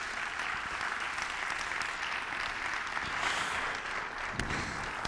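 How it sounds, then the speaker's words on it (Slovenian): An audience at a stage talk event applauds steadily, a broad even wash of clapping heard alone from start to finish at moderate distance. "En aplavz, prosim, za Cirila Komotarja."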